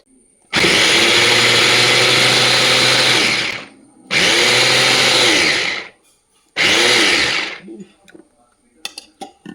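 An electric food chopper chops ginger and green chillies in three loud whirring bursts, the first about three seconds long, then two shorter ones, each cut off sharply, followed by small clattering sounds.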